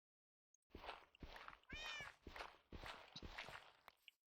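A cat meowing in the video game Minecraft, heard as a series of short, close meows with soft footstep-like taps between them, alone at a low level.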